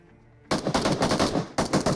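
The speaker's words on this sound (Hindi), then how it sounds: "ये फायर करके उन्होंने ऐलान कर दिया कि भैया चलो फाइट शुरू करते हैं" Rapid gunfire in a battle video game bursts in loudly after half a second of near quiet, dense repeated shots continuing with one brief gap.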